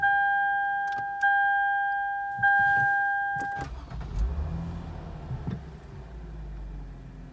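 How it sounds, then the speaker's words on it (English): Lexus IS250 fitted with an F Sport intake: a few dashboard chimes ring first, then the engine cranks and catches with a near, low rumble that settles and then fades unevenly. "this is going to be my first time starting the car with the F Sport intake on"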